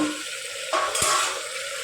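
Raw banana pieces frying in a pan for a Gujarati sambharo, with a close, soft sizzle broken by a brief scrape or clink of a utensil partway through.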